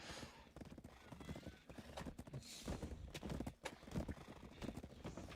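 Horse hooves clip-clop steadily in the online role-playing game Black Desert Online, a continuous close trotting rhythm with a brief whinny-like call and game ambience underneath.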